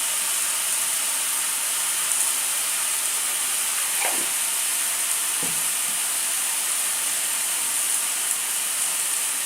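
Shrimp frying with salt in a pan for chingri macher chalkumro, a loud, steady hiss of oil sizzling throughout with a couple of faint clinks partway through.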